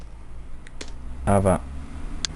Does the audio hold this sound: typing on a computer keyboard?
yes